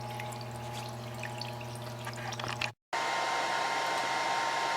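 Coolant streams steadily over a surface grinder, a continuous watery hiss over a low machine hum that cuts out briefly near the middle and then returns slightly louder.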